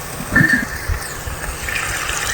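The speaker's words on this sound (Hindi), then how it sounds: "थोड़ा सा डालेंगे पानी के मसाला जले ना" Water poured into masala frying in a pan for aloo gosht shorba, a short splashing gush with sizzle settling into a steady hiss.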